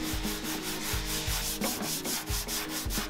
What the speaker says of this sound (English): So I'm just gonna show you how to sand it real quick and get it ready for glaze.